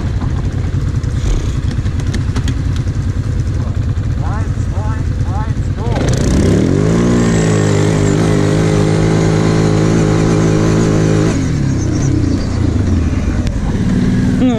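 Kymco Maxxer 250 and 300 Wide quads starting up in a sand pit, an engine cranking then catching into a loud steady rumbling idle and revving, with people talking over it.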